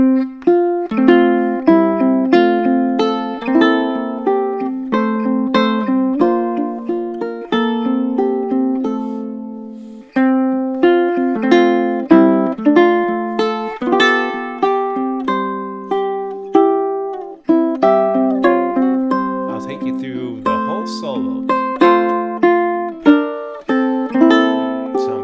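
Plucked chords on a low-G ukulele, played with fingers, ring out one after another in a steady, bright rhythm, with a short pause midway and no voices.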